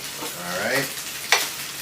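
Pork belly sizzles and crackles as it fries in a pan in a home kitchen, a close, steady hiss broken by a sharp spattering pop near the end.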